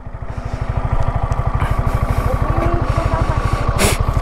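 A motorcycle engine runs steadily on a long ride, with a close, loud, rapid pulsing thump of firing strokes and a brief whoosh of wind near the end, with no talk over it.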